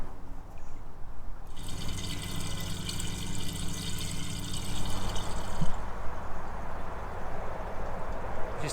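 A narrowboat's water tank fills from a hose, making a steady, faint trickling and gurgling flow that carries on throughout with some outdoor background noise.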